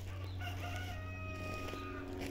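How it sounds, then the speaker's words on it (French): Faint and distant, a rooster crows once in a drawn-out, wavering call, heard alone against quiet background hum. "Il est complètement déréglé ce coq."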